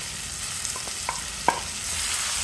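Salted, spiced ridge gourd pieces frying and being stirred in a pan over high heat, a steady sizzle with a few sharp scrapes and clinks of the spoon, close and moderately loud.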